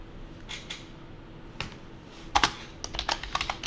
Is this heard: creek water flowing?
no